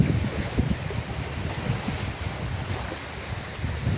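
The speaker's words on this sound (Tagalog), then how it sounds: "gawa ng hangin habagat." Strong southwest monsoon wind and sea waves, a rough, continuous roar with gusty low buffeting against the microphone, loud and unbroken and with no talk.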